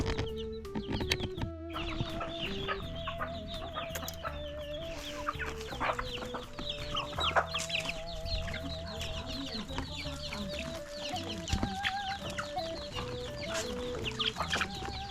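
Chickens clucking and a rooster calling in an African village, a busy, close chorus of fowl running continuously with occasional sharper squawks and clatter.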